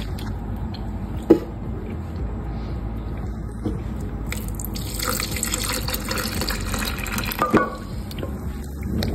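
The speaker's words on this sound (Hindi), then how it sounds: "अब डालते इसमें हम दूध।" Milk poured into a banana protein shake in a kitchen, a steady liquid splash and trickle running for several seconds with a couple of sharper clinks, close and fairly quiet.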